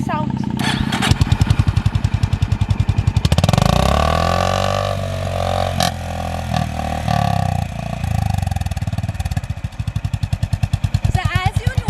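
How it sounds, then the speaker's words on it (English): Honda H'ness CB350 motorcycle engine idling with a steady low thump, revved up and held before settling back to a rhythmic single-cylinder idle, close and loud. "this bike actually sounds very mellow and very much more refined than the Royal Enfield"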